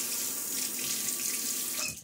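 Tap water runs steadily into a sink during a wet shave, a continuous close hiss and splash that cuts off abruptly at the end.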